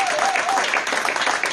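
A church congregation at a celebration worship service applauds in a dense, steady wash of clapping, with a voice briefly carrying over it at the start.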